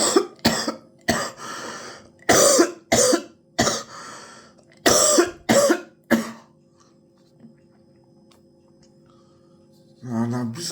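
A person coughs in a series of harsh, close bursts, several in quick succession, then goes quiet before one more throaty cough at the end.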